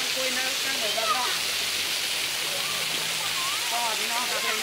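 Sai Yok waterfall in Kanchanaburi, Thailand, pours with a constant dense roar of falling water, steady and enveloping, with faint voices underneath.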